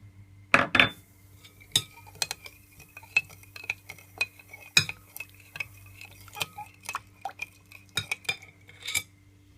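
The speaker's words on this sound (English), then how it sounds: "Just give it a stir." Spoon clinking against a bowl while stirring sugar into homemade sweet and sour sauce, a series of sharp, irregular metallic taps and scrapes, close and clear with no talk.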